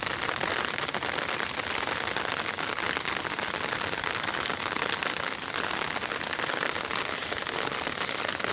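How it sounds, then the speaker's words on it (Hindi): Rain falling steadily on flowering plants, a close, dense patter of drops on leaves and petals forming an unbroken crackling hiss with no voices. "जब इनके ऊपर बारिश पड़ती है"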